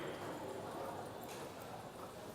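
Cutting horse working a cow in a dirt pen at a cutting competition: faint, soft hoofbeats stepping and shuffling in quick irregular rhythm, heard at a distance under a commentator's talk.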